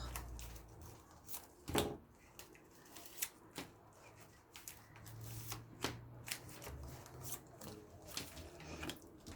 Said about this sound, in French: Je coupe le tas et je vais prendre des cartes.